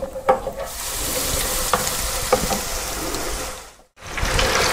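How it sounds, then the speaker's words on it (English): A batch of shrimp deep fries in hot oil, a close, steady sizzling hiss with a few sharp crackles and splashes as pieces drop in, briefly cutting out near the end before resuming. "I'm going to drop these down and let them cook also for 3 minutes."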